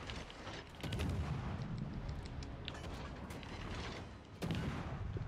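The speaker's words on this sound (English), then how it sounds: "This thing fires like a machine gun." Rapid ship gunfire in a naval warfare video game, a dense, steady stream of machine-gun-like shots over a continuous rumbling battle background, with a louder burst near the end and no talking.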